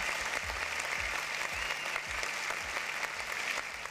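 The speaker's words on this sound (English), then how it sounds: "May I have another round of applause for all of our winners, ladies and gentlemen." Steady applause from the audience at a fintech talk event as winners are honored, a dense, even wash of many hands clapping at moderate volume throughout, with no voices.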